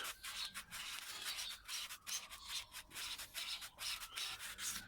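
A fibrous single-layer cue tip being hand sanded with fine 2500 grit sandpaper, quick rhythmic rubbing strokes in a steady back-and-forth pattern, soft and close with no talking.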